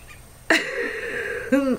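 A bird calls right at an open window indoors. Two loud, harsh, tonal calls come close to the listener: a long drawn-out one, then a shorter bent cry.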